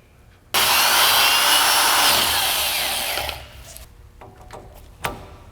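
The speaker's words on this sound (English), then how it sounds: "I'm gonna drill the other side out to this 1/2"" A loud, steady drill whine runs for about three seconds as a half-inch bit drills out a parking brake cable part, then winds down, followed by a few light clicks and a small knock.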